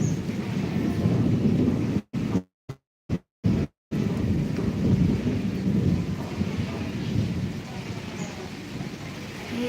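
A severe early thunderstorm in Chittagong as rain begins: deep rolling thunder and steady rain hiss fill the air, broken by a few brief dropouts of silence.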